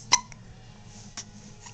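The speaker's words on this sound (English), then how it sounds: "Do you have the hiccups?" A baby hiccups close by, a sharp hiccup at the start followed by a second, softer one about a second later, with no talking.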